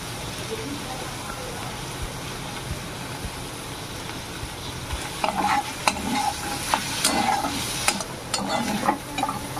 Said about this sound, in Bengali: মাছগুলো আমার খুব সুন্দরভাবে ভাজা হয়ে গেছে, এবার আমি উঠিয়ে নেব।